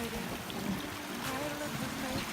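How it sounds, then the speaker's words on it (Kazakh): A stream flowing steadily in a forest setting, a continuous rushing, gurgling wash of water close by with faint background sounds. "судың дауысы күшті екен"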